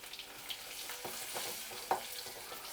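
Asafoetida fries in hot oil for a radish sambar, a quiet sizzle with soft crackles and a couple of sharper pops, no voices over it.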